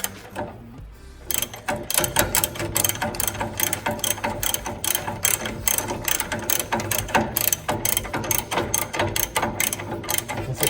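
A ratchet wrench cranks a trailing arm bushing bolt on a Mitsubishi Montero, rapid loud clicking strokes in steady bursts after a brief quiet start, close up and unaccompanied by speech.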